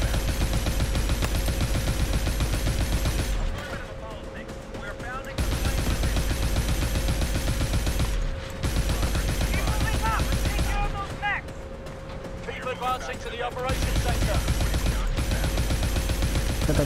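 Mounted turret hammering away in Call of Duty: Advanced Warfare, loud continuous automatic fire in long bursts broken by brief pauses, with a voice speaking during the quieter gaps.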